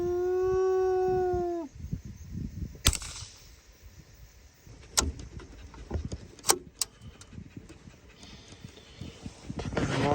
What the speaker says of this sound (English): Yep, a dog just there.